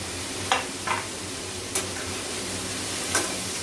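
Capsicum frying in a pan with a steady soft sizzle, broken by a few brief light clinks or stirring taps, and no voices.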